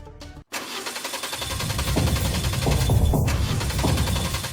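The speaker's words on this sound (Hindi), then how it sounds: "अरे यार ये गाड़ी स्टार्ट क्यों नहीं हो रही अब?" A car engine cranks without catching, a steady rhythmic churning that runs for several seconds after a brief click, close and loud with no voices.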